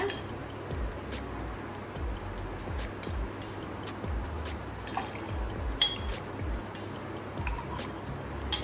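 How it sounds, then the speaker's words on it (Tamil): Ice cubes dropped into a glass of nungu (ice apple) sarbath, with several close clinks and light splashing taps over a background of liquid trickling. "ஐஸ் க்யூப் ஆட் பண்ணிக்கோங்க"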